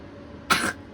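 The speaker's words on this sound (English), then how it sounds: "getting to listen to her cough right all over my sheets" A single short cough, close and fairly loud, from a person or pet at morning in a camper while boondocking, standing out briefly against a quiet background hum.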